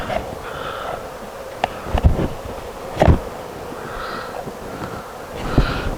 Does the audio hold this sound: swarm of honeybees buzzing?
yes